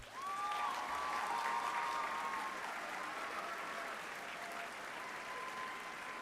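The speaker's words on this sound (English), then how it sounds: "let's give our parents, guardians, and champions a round of applause right now" Graduation ceremony audience breaks into sustained applause, a dense wash of clapping from a large crowd with a few faint whistles or cheers early on, fading slightly over about six seconds.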